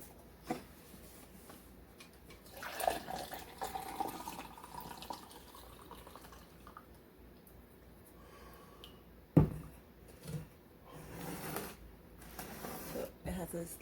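Liquid tea made from Moses in the cradle leaves sloshing in its container as it is agitated, with faint, brief splashing bursts that are quiet and intermittent, with a low voice now and then.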